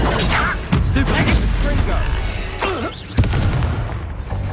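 A Stupefy spell hits in the Hogwarts Legacy video game, loud booming impacts amid a busy combat din, with sharp hits and whooshing effects layered over background game sound and a voice.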